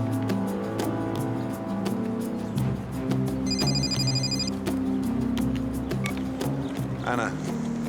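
A telephone rings briefly in the spy drama Spooks, a short electronic trill heard under continuous talk and background music.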